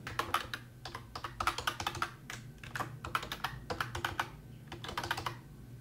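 Quick, uneven clatter of a computer keyboard as a name and email address are typed in, with close, crisp keystrokes in short bursts and brief pauses between words.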